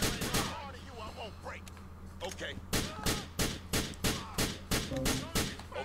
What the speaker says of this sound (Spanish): Si te estoy cosiendo a tiros, ¿por qué no mueres?